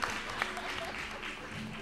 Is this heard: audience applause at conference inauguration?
yes